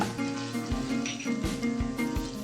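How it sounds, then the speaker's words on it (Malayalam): Ginger and green chillies sizzle and fry steadily in hot sesame oil in a pan, a close, continuous crackle with occasional soft knocks, and no one speaks. "ഇനി അതിലേക്ക് നമുക്ക് ഇഞ്ചി, പച്ചമുളക്,"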